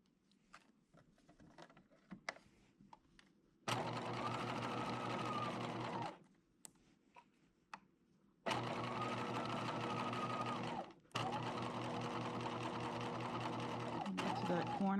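A sewing machine stitches fabric in three long, steady whirring runs separated by pauses, and the final run restarts after a brief halt. Faint handling noises and a quiet voice fill the gaps.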